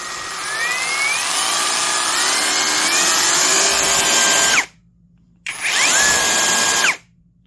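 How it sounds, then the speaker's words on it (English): A Vevor brushless barrel-grip cordless jigsaw runs loud and close with a high motor whine, cuts out abruptly into silence, then restarts briefly and stops again. "Double click to get it going, and then of course"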